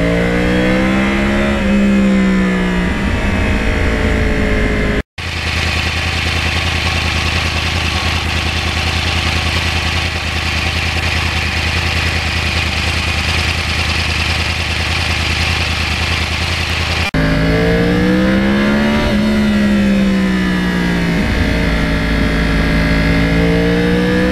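A 2009 Yamaha R1 crossplane motorcycle engine roars loud and close while riding country back roads, holding a steady drone with rising and falling revs at the start and end and a brief cut near the beginning.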